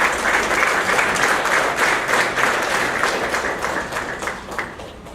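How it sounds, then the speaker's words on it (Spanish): Loud, dense applause from a seminar audience on cost strategies, many hands clapping together in a sustained burst that eases off gradually over five seconds. "Démosle un fuerte aplauso a nuestro amigo Daniel."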